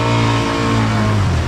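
An off-road vehicle's engine roars loud and close in first gear as it drives toward a deep pond, a steady, strained drone that holds for a second and a half.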